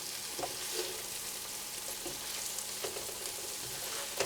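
Scallops frying with onions in a pan for creamed scallops give a steady bright sizzle, punctuated by soft scraping and clacking as they are stirred, with no talking.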